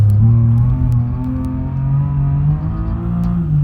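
A BMW E34 525 engine revs in BeamNG Drive with a 7200 rpm rev limit. The loud, steady droning tone climbs slowly in pitch as the revs rise.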